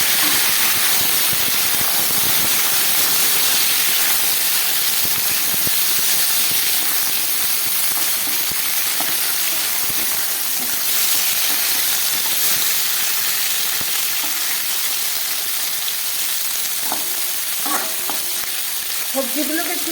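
Vegetables frying in a pan with a bay leaf, a continuous dense sizzle and hiss, with occasional scraping and stirring knocks through the steady crackle.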